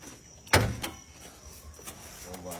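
A Honda car makes one sharp mechanical clunk like a door or latch, then a softer knock and faint motor whirring. No one speaks.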